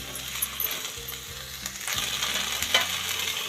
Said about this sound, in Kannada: ಇದೊಂದು 2 ನಿಮಿಷ ಫ್ರೈ ಆಗಬೇಕು